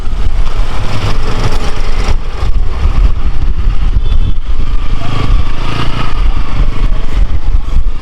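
Motorcycle engines rumble and idle steadily at a busy ferry ghat at Manori, a dense, continuous mechanical drone with crowd noise mixed in, loud and close throughout.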